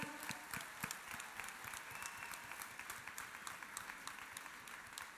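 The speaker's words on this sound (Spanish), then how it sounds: "Un fuerte aplauso para toda la organización de esta feria." Audience applause at a book fair, steady clapping from a crowd that carries evenly through the whole stretch at moderate distance, with no speech over it.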